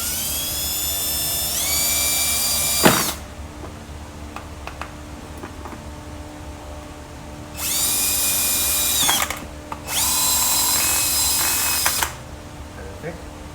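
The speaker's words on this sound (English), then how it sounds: "So let me drill this out" Power drill boring a hole through a golf cart panel to pass wires, two loud whining bursts near the start and two more later, separated by quieter handling noise.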